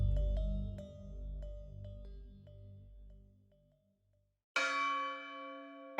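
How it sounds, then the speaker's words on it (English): A deep church-style bell strikes once, loud and ringing, near the end after low music fades into a silent pause; no one speaks. "At the sound of the bell, Scrooge woke with a start."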